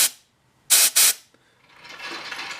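Fine mist sprays from the bowl area of a generator in two short, close hissing bursts, one right after the other, followed by quieter broadband hiss.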